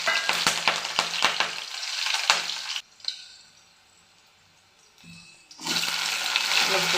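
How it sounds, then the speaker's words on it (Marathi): Sliced sweet potato and chopped green chili drop into hot oil in a kadhai, giving a broad sizzle with stirring clatter, then a short lull before the frying hiss swells back up loud and steady. "आता आपण कढईत तेल घेतले, त्याच्यात टाकून घेऊया"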